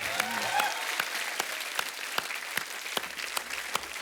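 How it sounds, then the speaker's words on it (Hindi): Studio audience on a Hindi TV comedy talk show bursts into loud, sustained applause as a veteran film actress is welcomed, steady dense clapping with sharp individual claps throughout, no talk over it. "जोरदार ताली।"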